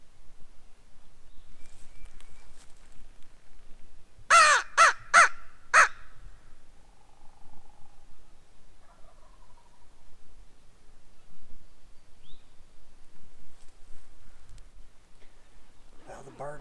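A wild bird gives a quick series of four loud, harsh caws in West Virginia, then falls silent; faint outdoor noise and distant voices follow.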